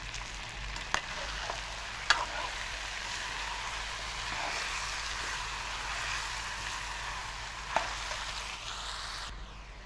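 Chicken sautéing in a pan for a spiced Indian chicken masala curry, giving a steady, dense sizzle and crackle throughout with a few sharp pops of spattering oil and no talking.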